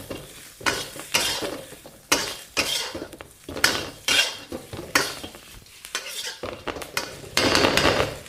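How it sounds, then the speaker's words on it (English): Squid and diced red pepper are tossed in a hot wok, with repeated rhythmic metal clanks and scrapes over sizzling, close and fairly loud, with no speech. "You cook it, all the squid goes back in. And you just toss it well."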